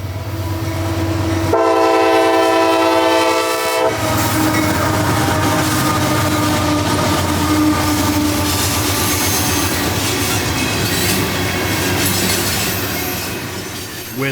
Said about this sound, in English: B307 now rolls eastward towards Ridgewood with about 70 carloads of nutrient-rich sand